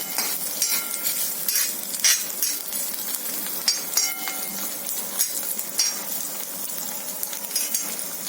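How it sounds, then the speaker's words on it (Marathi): Garlic and ginger sizzle steadily in oil on a griddle pan while a utensil stirs and clinks against the metal now and then; no one speaks. "ते थोडं भाजून घेऊ तव्यावर तेलामध्ये"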